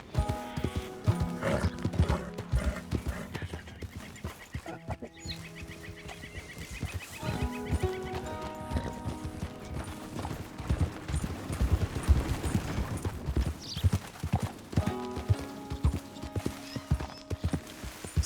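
Horse hooves clip-clop in a steady rhythm through a Red Dead Redemption 2 game scene, mixed with a whinny and a layer of game music and ambient sound.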